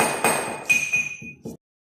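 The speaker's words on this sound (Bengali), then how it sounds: "সেই শুকনা কমলার খোসা আর কাঁচা কমলার খোসাটা একসঙ্গে আমি একটু আমদিস্তাতে কুচে নেব" Dried and fresh orange peel pounded together in a metal mortar and pestle, about seven sharp, ringing strikes in steady rhythm, close and fairly loud, then silence.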